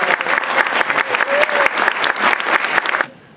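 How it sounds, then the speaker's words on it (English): An audience at a county Republican Party Lincoln Day dinner claps in a steady burst of applause that fills the room, then cuts off abruptly near the end. "Give them a big round of applause."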